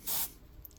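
A short, sharp hiss from a paint spray gun fitted with a Solo needle and nozzle, spraying Wicked Black paint reduced 1:1, a single burst lasting a fraction of a second before falling quiet.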